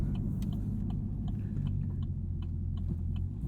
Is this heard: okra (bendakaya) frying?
no